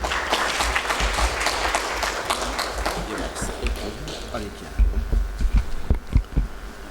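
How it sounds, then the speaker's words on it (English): An audience at an inaugural conference plenary session gives a dense round of applause that fades out after about three seconds, followed by a few scattered thumps and quiet room noise. "Can we please have a huge round of applause for him?"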